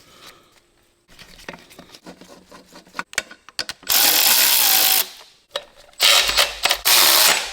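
A power tool runs bolts in on a Banks oil cooler upgrade kit for a Duramax, after scattered clicks and handling noise: two loud, close bursts of a couple of seconds each, the second one stuttering.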